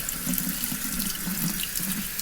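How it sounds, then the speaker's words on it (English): A running faucet pours a steady stream over a Harley-Davidson air filter during rinsing, producing a continuous close hiss and splatter in a sink with no voices. "You just let the water flow really good."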